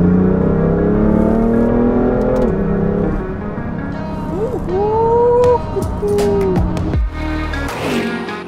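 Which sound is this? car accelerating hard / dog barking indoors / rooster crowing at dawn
car accelerating hard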